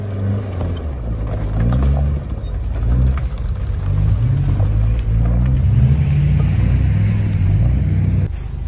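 A 3-litre turbo Toyota Land Cruiser revs repeatedly while being recovered during an off-road safari competition on a farm, the engine rising and falling in a series of close, rumbling surges.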